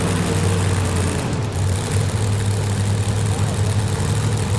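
Supercharged 2,000-horsepower pulling trucks at a two-wheel-drive truck pull in Louisville, Kentucky, giving off a loud, sustained, droning engine roar heard from a distance, with an announcer's voice over it.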